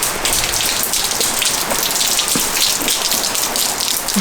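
Heavy rain pours down in a dense, constant hiss, spattering loudly on a carport and campervan nearby, with no voices.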